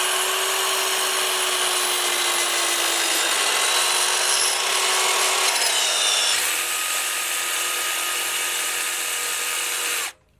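A power saw set at 45 degrees cuts through wood in one long, loud, steady whining rip that changes pitch partway through, then stops abruptly near the end, close up and without voices.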